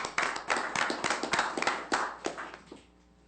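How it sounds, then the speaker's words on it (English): A small group at a county board meeting gives a brief, sparse round of applause, individual claps distinct and uneven rather than a dense roar, tapering off into quiet after about three seconds. "So let's give a round of applause to our county staff."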